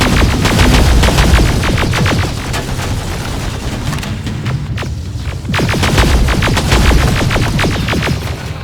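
Sustained automatic gunfire in Terminator: Resistance, with rapid bursts of shots over deep booming and rumble, loud and close, easing briefly in the middle before picking up again.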